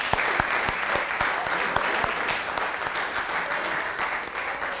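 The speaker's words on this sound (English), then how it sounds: "let's give them a round of applause." An alumni awards celebration audience applauds the standing committee with sustained, even clapping from many hands and a few sharper claps standing out.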